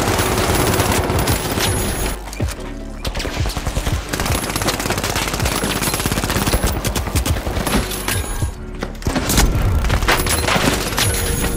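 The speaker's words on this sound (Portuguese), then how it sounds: "São os tiros de 12." Rapid, loud shotgun fire in the video game The Finals: dense bursts of shots nearly continuous, with two brief lulls, no talking over it.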